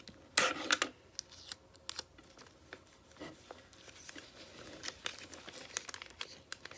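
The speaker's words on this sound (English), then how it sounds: "we'll tape this little corner down" Tape and paper are handled while making an iPhone-shaped paper squishy: crinkling, tearing and sharp scissor-like snips come close up in irregular bursts, with one loud rip near the start and softer rustling after it.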